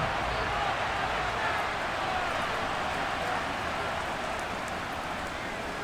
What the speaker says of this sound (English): we'll see if this rain affects the team's decisions going forward